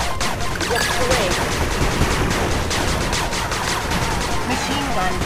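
A machine gun turret in the game 8-Bit Armies fires sustained rapid bursts, loud and dense, as a continuous rattle of gunfire in the middle of battle.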